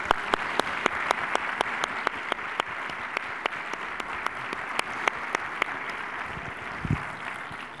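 A conference audience at a business talk breaks into steady, dense applause, with many hands clapping continuously at an even loudness for the full stretch and a few sharper individual claps standing out near the front.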